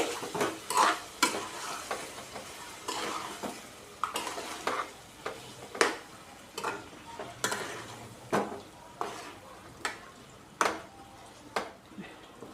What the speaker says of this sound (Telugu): జాగ్రత్తగా కలుపుకోవాలి